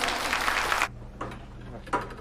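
Audience applause greeting a speaker at a corporate group presentation: a dense burst of clapping for under a second that cuts off abruptly, followed by quiet room tone with a few faint scattered sounds.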